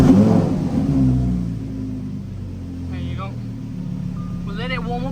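Lamborghini Huracan STO Tecnica V10 idling with its exhaust valves open, a steady deep rumbling drone that holds throughout, close and loud, with someone talking over it.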